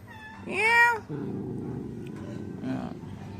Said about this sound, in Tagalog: Ala, si Sipi ug ang meow. Meow. Meow.